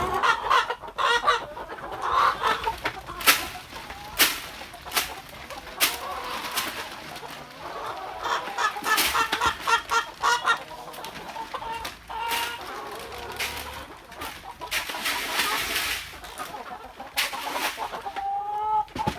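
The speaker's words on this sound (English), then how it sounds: "I would start in the morning by feeding the chickens just a few handfuls of grain." Homestead chickens clucking and squawking while being fed handfuls of grain in the morning, with busy overlapping calls at close range and intermittent rustling.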